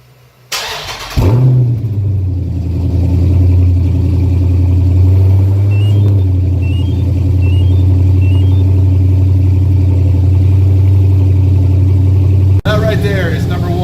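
A Dodge Challenger Scat Pack's engine bursts to life and settles into a loud, deep exhaust rumble that holds steady, close by, in a garage.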